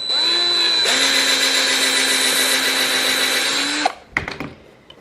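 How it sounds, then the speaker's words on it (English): A power drill runs slowly and steadily with a constant whine for several seconds, then stops, followed by a few clattering knocks. "Don't give your drill like full throttle"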